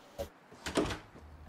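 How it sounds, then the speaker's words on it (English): A door closes with two short, knocking thuds a fraction of a second apart, fairly close and moderately loud, with no talking. "close the door. It'll make everything better."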